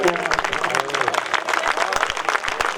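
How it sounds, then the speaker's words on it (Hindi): Audience applause at a Hindi hasya kavi sammelan (comic poetry gathering) in Yara Township: dense, steady clapping throughout, with a voice speaking over it. "एक बार और जोरदार तालियां"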